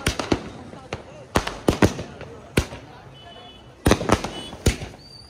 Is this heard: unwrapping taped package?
no